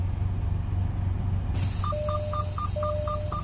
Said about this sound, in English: I'm going to release both my protection valves, wait for the air to stop leaking